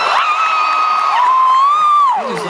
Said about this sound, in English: Round of applause for Thor.